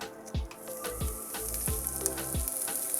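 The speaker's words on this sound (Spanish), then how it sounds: "Ya con mi plancha caliente le voy a agregar 2 cucharadas de aceite vegetal y de una vez voy a poner mi repollo" Cabbage fries in two spoonfuls of vegetable oil on a hot griddle, a moderate crackling sizzle with several soft knocks and scrapes from stirring, no voices.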